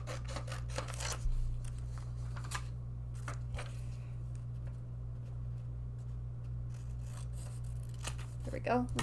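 Scissors snip through paper in several short, close cuts at a craft table, quiet and intermittent, with a person talking softly between the snips and a steady hum underneath.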